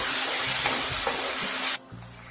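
Blended tomato hits hot frying masala in a cauliflower dish, giving a loud, continuous sizzling hiss while it is stirred, then cutting off abruptly to a quieter simmer.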